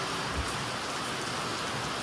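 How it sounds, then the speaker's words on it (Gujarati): Dense, even hiss of heavy rain falling on a surface, continuous and fairly loud with no other sounds standing out. "જો વરસાદ બહુ આવવા માંડ્યો અચાનકથી એટલો જ શરૂ થઈ ગયો"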